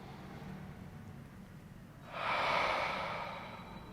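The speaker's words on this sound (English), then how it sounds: "Inhale through the nose." A single slow, deep inhale through the nose during a yoga breathing exercise, soft and close, swelling and then fading.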